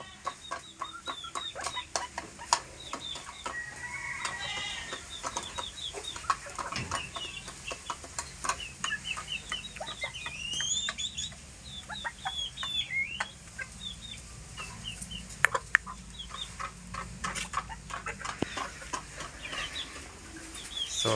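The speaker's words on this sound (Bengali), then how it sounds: "আর নিচে হলো কোচিং মুরগি কোচিং এক জোড়া অনেকটাই বড় হয়ে গেছে" A pair of Cochin chickens clucking in a backyard enclosure among other birds, with repeated soft clucks and chirps scattered over a steady faint background, no talking.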